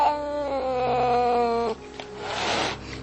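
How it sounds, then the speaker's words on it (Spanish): Cats screech and yowl in a spooky audio story: a long, drawn-out wailing meow that bends downward, then breaks into a harsher, noisy screech, loud and close. "Y seguidamente, chillidos y maullidos de gatos rabiosos."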